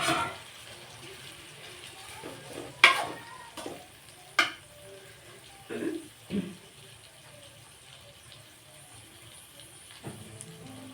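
Mutton pieces added to masala and fried in a pan, a soft steady sizzle broken by several sharp clinks and scraping stirs of a spoon at close range.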